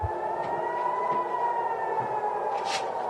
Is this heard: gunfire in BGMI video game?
no